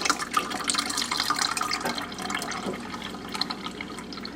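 Brewed, steeped berry iced tea pours into a pitcher as a steady, fairly soft splashing trickle of liquid that runs continuously without a break, with no voices.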